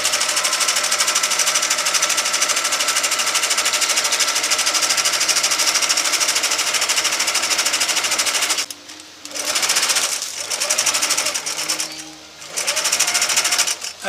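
A sewing machine stitches close along the hem of a kite, following the edge right into the trailing-edge line, running loud and steady before breaking into short stop-and-start bursts near the end.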